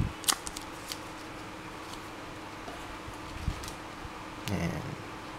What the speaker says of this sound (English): So let's take off the wrapper.